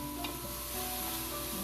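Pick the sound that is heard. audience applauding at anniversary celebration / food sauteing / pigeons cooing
food sauteing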